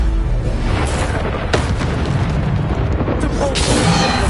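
Bombarda explosion spells from the video game Hogwarts Legacy, heavy booming blasts layered over continuous dense game combat noise, with a few sharper bursts standing out.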